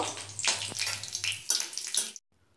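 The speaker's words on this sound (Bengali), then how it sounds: "ওই কড়ার মধ্যে যে তেল ছিল ওর মধ্যেই ফোড়ন দিয়ে দেব জিরে ফোড়ন দিয়ে দিলাম" Cumin, dried chillies, cardamom and cinnamon sizzle in hot oil in a kadai, a close, crackling hiss that rises and falls for about two seconds, then cuts off abruptly.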